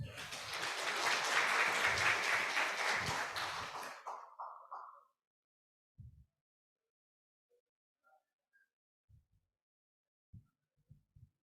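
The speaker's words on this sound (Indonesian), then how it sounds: "Ya, tepuk tangan ya." An audience at a university student exchange event claps loudly together for about four seconds. The applause fades into a few scattered claps, then quiet with occasional thumps.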